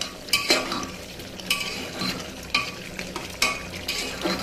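Vegetables with spices frying in a pan as a spatula stirs them, regular scraping strokes roughly once a second over a soft steady sizzle, close and clear.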